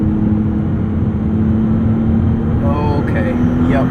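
A 2022 Maserati MC20's Nettuno engine revs hard toward fuel cutoff near 8,000 RPM on a backroad, a loud, steady rising drone heard from inside the cabin.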